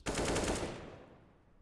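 An AK rifle in Counter-Strike: Global Offensive fires a rapid burst of about five shots in under a second, loud and close, then rings out into a short decaying tail.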